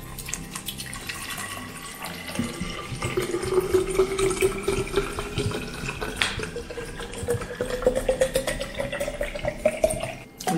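Still mineral water being poured into an Air Up drinking bottle up to the fill line, a steady trickling stream whose pitch rises as the bottle fills.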